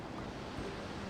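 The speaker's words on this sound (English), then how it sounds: "I want to look at this waterfall." A waterfall pours into a pond in a building-placement video game, giving a steady rushing, surf-like wash of water with no voices.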